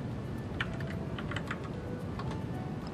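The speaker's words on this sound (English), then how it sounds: "Now we can type the answer." Steady typing on a computer keyboard, with light, fairly even key clicks continuing throughout at a moderate, close level over a faint background hum.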